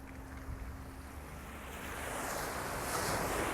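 Small waves lap along a little Catalina Island shoreline, a steady wash of surf mixed with wind buffeting the microphone that swells slightly louder toward the end.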